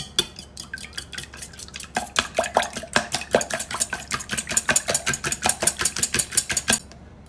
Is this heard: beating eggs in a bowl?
yes